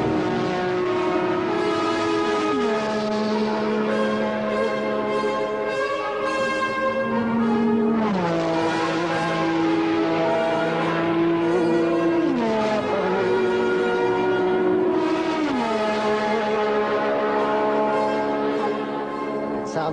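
A Formula 1 turbo engine running steadily: a loud, continuous harmonic drone that holds pitch, dips lower around three times and rises again as revs change, with no pause throughout.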